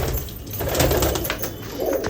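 Ferozpuri pigeons cooing in a loft, low soft throaty coos repeating close by over a steady background hum, with no one talking.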